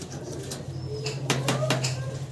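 A pigeon at a pigeon breeding farm gives a short, close coo with a few soft repeated notes over faint background hum.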